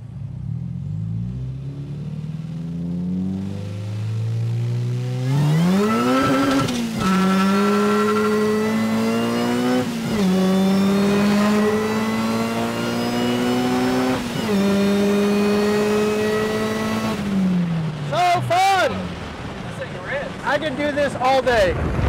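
A supercharged Honda Integra GS-R engine, heat-soaked, revs up loudly through the gears on the road, pitch climbing and dropping with each shift, and a voice talks over it near the end.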